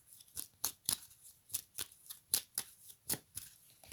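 Cards being shuffled and drawn for a card reading, a series of about a dozen crisp riffling snaps at an irregular, fairly quick pace, close and clear with no talking.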